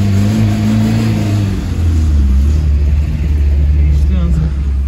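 A lowered Tofaş car with a modified exhaust rumbles and revs loudly with a deep, throaty tone, holding steady low drones throughout with voices talking over it.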